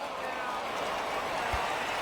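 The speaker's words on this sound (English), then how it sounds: "I can hear the crowd murmuring now." Steady crowd murmur from a stadium in the MLB The Show 19 baseball video game, a continuous broadband hum of many distant voices with no clear peaks, holding at an even level throughout.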